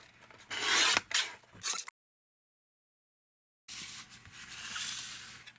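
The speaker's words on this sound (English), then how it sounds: "So first what I do is I cut these celebrates into strips." Printed paper tags are cut into strips with a rasping, scraping sound in several quick passes, close and moderately loud. A silent gap follows, then a longer steady rubbing scrape.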